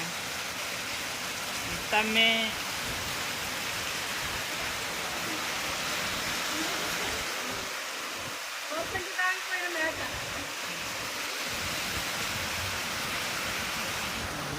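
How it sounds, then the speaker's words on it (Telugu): Steady, even rain hisses across the whole stretch, with a couple of brief voices breaking through faintly. "ఏటి వర్షం"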